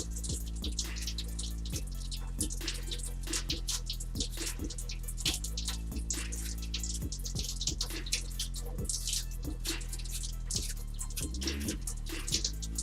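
Water is stirred in a kitchen during juice preparation, a steady swishing and trickling with small regular clicks and taps, moderately quiet and without talk.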